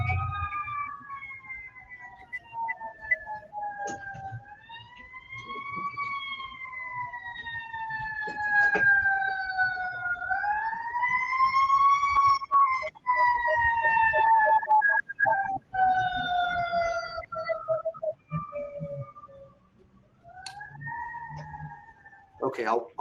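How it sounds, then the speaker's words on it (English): A wailing siren sweeps slowly up and down for a long stretch, swelling louder as it passes nearby during an indoor deposition, with traffic rumble underneath. "Let's pause for 1 second while the siren goes by"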